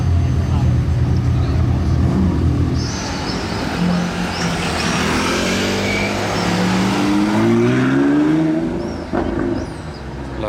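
A McLaren Senna hypercar passes in a street gathering of supercars in Monaco, its engine note swelling and rising in pitch as it approaches and goes by, with people talking over it throughout.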